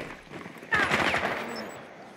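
A single close shotgun blast in Rainbow Six Siege, a sharp burst with a short decaying tail, fairly quiet overall.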